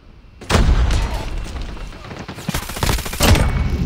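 Dense automatic gunfire from a CX-9 submachine gun in a Call of Duty match, bursts rattling continuously with sharp louder volleys near the end, close and loud.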